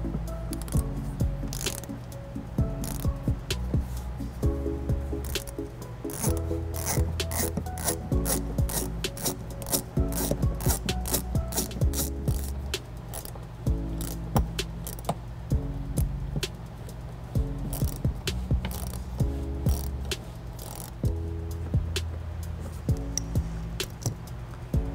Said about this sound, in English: we're just gonna use an offset Phillips to loosen them and remove them